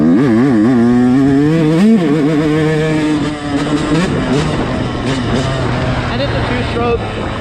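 Motocross bike with a freshly rebuilt top end, new piston and needle bearing, revving loudly and steadily with rising and falling pitch as it rides on, close to the rider throughout.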